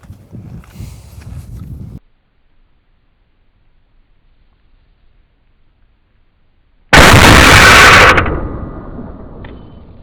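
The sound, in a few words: gunshot from CMMG Banshee 5.7 penetrating doors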